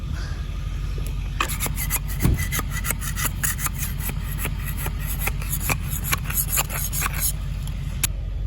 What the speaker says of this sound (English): There's a ridge of the old setting compound. It has to be scraped off.